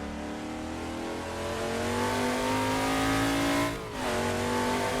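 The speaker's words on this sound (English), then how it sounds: "Sitting on board the 1974 XA Falcon. We'll head straight out of the pits and see what sort of a lap time we can do." A 1974 Ford XA Falcon race car laps Bathurst, heard from on board as its engine roars loudly and continuously, revving up through the gears with a brief dip at a shift before pulling hard again.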